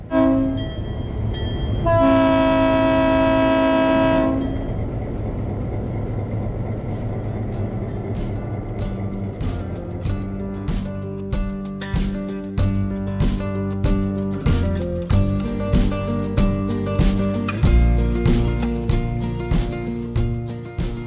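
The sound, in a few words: train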